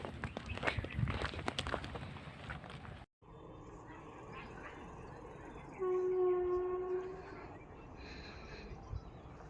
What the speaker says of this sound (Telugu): ట్రైన్ సౌండ్ వినిపిస్తుందా?